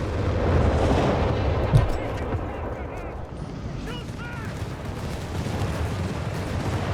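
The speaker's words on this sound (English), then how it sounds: "Now we've got Nebelwerfer. There's just so much artillery though." Heavy artillery and Nebelwerfer rocket fire in the World War II strategy game Company of Heroes 3, a continuous rumbling barrage with one strong thump early on, while a voice talks over it.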